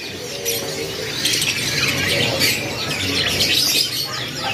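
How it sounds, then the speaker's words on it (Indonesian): Young F3 series canaries, mixed males and females in a bird shop, chirp and twitter busily in a dense, bright chorus, with a brief flutter of wings among the calls. "pilihan burung kenari seri F3 dengan stok terbaru hari ini"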